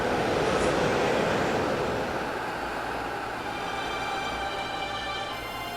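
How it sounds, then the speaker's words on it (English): Toronto TTC subway train running on rails: a loud, steady rumble of wheels and carriage noise with a thin tonal whine riding above, continuous and close throughout. "Slicing through the transit arteries of the major cities in the world runs another type of rail system."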